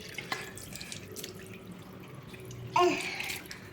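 Water from a household tap running into a sink during face washing, a soft continuous trickle that rises into a louder splashing flow near the end, with no talk.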